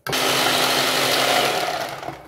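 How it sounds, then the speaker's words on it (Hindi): An electric hand beater whirring through pancake batter, a loud steady motor drone that starts abruptly, holds for about two seconds and winds down, close up with no talk. "थोड़ा सा मिक्स करके फिर मैं बीटर चलाऊँगी ताकि ये उड़े नहीं"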